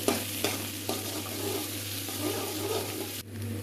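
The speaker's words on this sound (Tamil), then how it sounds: "அடுத்து இது வந்து வெங்காயம் நல்லா வதங்க வரைக்கும் நல்லா கிளறி விட்டுக்கணும்" Onions frying in a pan for a tomato and drumstick curry, a steady close sizzle with scraping stirs of a spoon against the pan, a continuous bed of frying noise with no talking.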